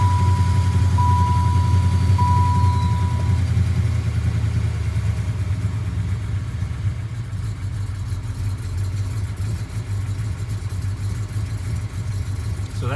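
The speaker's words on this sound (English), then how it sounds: "That's the idle." A Chevrolet Impala engine idles steadily, its low rumble droning on throughout at an even, moderate level with a faint light clatter riding on top.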